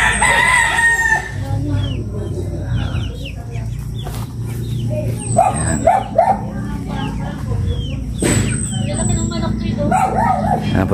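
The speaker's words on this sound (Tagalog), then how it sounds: "mga alaga siyang mga manok" Backyard flock of domestic chickens at a house in Batangas, a rooster crowing loudly and nearby with hens clucking around it, a dog barking in between and people talking over the birds.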